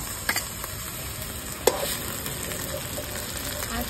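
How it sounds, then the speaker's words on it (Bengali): Ginger-garlic paste frying with lightly browned onions in a pan for a home-style chicken curry, a steady close crackling sizzle with a few soft stirring knocks, no voices. "এবার দিয়ে দেবো আদা রসুন বাটা।"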